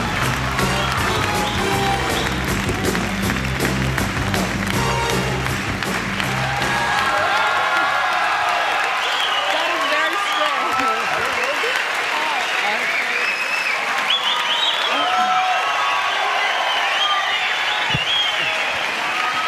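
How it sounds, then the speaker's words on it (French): Studio audience applauds and cheers for Cindy Crawford on a French TV show, a dense sustained roar of clapping with whoops, loud throughout, with music in the opening seconds. "Applaudissements, mesdames, messieurs, Cindy Crawford."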